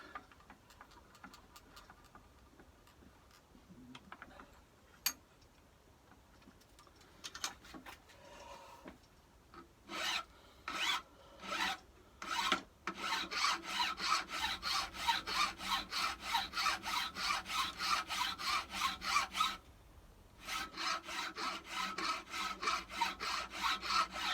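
Hand file working the radius off a small metal spacer for the fuel filter housing of a David Brown 990 tractor, starting with a few scattered scrapes, then settling into steady, rapid rasping strokes, close and fairly loud, with a brief pause near the end.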